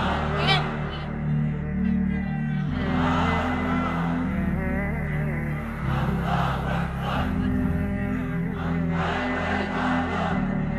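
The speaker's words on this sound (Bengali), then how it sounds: "তাকবীর পড়েন তো লিল্লাহে তাকবীর" A large congregation at an Islamic religious sermon roars the takbir in unison, several loud sustained swells of massed voices with rhythmic breaks, close and filling the space.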